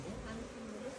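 Honeybees buzz steadily around a hive comb in a brief, faint, close hum with no talk.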